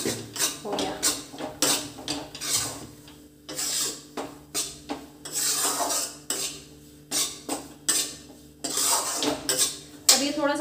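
Besan (gram flour) roasting in a pan, stirred constantly with a metal spoon, gives repeated scraping and clinking against the pan, steady and close with brief pauses, and no talk.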